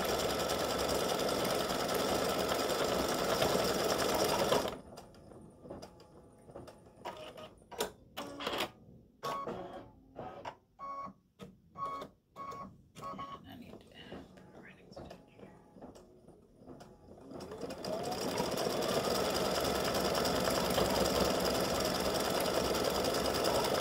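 An embroidery machine stitches gold thread for a braid effect on a St Patrick's gnome design, a fast mechanical needle patter in bursts with brief stops, set between stretches of louder steady background noise.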